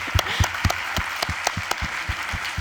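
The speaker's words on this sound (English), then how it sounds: "a round of applause?" At a tech conference talk on declarative UI testing, a small audience gives short applause, with individual claps standing out clearly and unevenly spaced rather than forming a dense roar.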